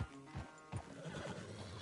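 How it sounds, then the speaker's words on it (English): A horse neighs and whinnies loudly in Red Dead Redemption 2, with snorts and hoof clatter after a race, the calls close and agitated with no talk over them. "Damn horse acting up on me, of all the times."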